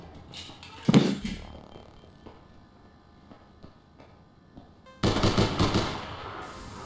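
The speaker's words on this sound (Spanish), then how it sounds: "¿Qué coño? qué me dispara ese tipo?" Gunfire rings out in the video game APB Reloaded, starting with one sharp shot and then, after a quiet stretch, a fast rattling burst of automatic fire that runs to the end.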